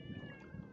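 A cat kept as a guard at a fish cage on the water gives a single soft, drawn-out meow, faint and fairly close, over a low background rumble.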